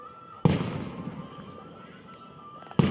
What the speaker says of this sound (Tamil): வடநாட்டில் தான் வான வேடிக்கை அதிகமாக இருக்கும்